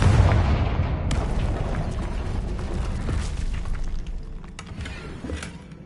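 A Confringo blasting curse bursts in Hogwarts Legacy, a loud booming explosion at the start that rolls into a long rumbling, crackling decay fading over several seconds.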